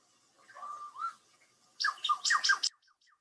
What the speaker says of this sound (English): Whole mix of birds calling there.